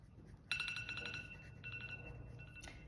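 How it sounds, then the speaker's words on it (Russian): A timer rings with bright, bell-like repeating tones for about two seconds, close and clear over a faint low background hum. "Звонит таймер."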